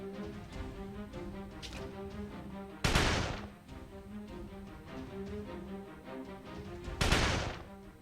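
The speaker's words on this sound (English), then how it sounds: "The sounds of gunshots can be heard all around us without end" Gunfire in the PS Vita visual novel Code: Realize, soldiers shooting in the courtyard of Buckingham Palace at night: two sharp, heavy shots some seconds apart over a steady droning musical background.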